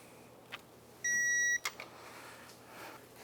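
Torque wrench on a Can-Am Outlander ATV axle gives a single clear electronic beep about half a second long, signalling 35 foot-pounds, against a quiet workshop background.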